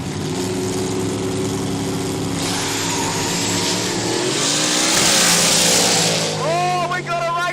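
A wagon and a rival car launch in a no-prep street drag race at Kooralbyn Valley, engines roaring loud and revving through rising gear sweeps, the wagon backing off the throttle, with a commentator talking over the racing.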